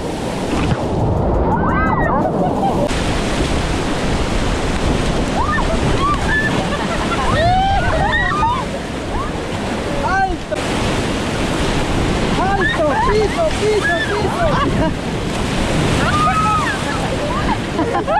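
Loud, steady rushing of churning river rapids in Jalcomulco, Veracruz, Mexico, during rafting, with wind buffeting and scattered shouts and whoops rising over the roar.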